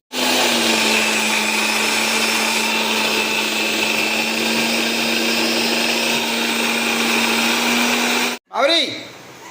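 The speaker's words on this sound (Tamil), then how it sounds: "இஞ்சி இல்லை வெறும் பூண்டு நல்லா அரைச்சி எடுத்துக்கினேன்" A mixer grinder whirs loud and close as it grinds plain garlic, a steady high-pitched motor drone that runs for about eight seconds, stops abruptly, then briefly spins up again.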